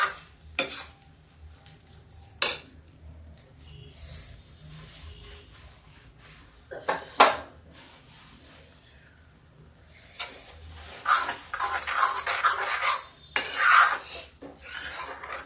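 Four kinds of dal stirred in an iron kadhai, with scraping and clanking of a spoon against the metal in scattered strokes, some louder rasping bursts toward the end, and little else around.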